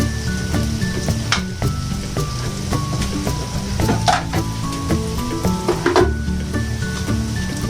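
Garlic sautés in a pan for a creamy garlic mussel dish, a close, bright sizzle with occasional louder crackles and bursts as it is stirred, continuous throughout with no talking.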